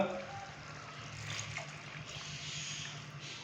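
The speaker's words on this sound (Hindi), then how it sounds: "अभी मैं इसके अंदर 1 कप पानी" A cup of water poured into a chicken and green peas curry in a cooking pot, a soft continuous trickling pour heard close and faint for a few seconds.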